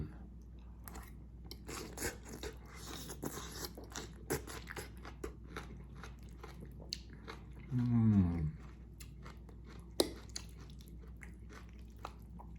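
Someone chews a mouthful of rad na with kale and marinated pork, soft wet crunches and bites repeating close up, with a brief voice partway through.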